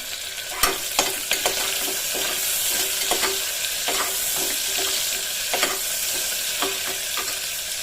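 Onion and tomato fry in a pan for mushroom biryani, giving a loud, dense, steady sizzle punctuated by regular sharp spatula taps and scrapes against the metal, near and with no speech.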